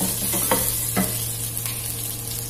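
Cardamom, cinnamon and cloves crackle in hot oil for vegetable biryani, an up-close sizzling hiss with two or three quick stirring scrapes over a low steady hum, with no voices.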